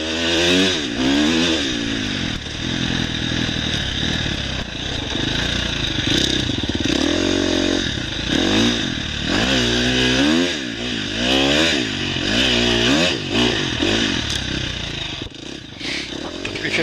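A 2018 KTM 350 XCFW four-stroke dirt bike is ridden through a sand wash at a Phoenix demo, its engine loud and close as it revs up and down continuously, with rushing wind noise throughout.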